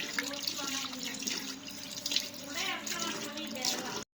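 Tap water runs into a sink while something is washed under it, a constant splashing stream with small drips and clatters throughout, stopping abruptly at the end.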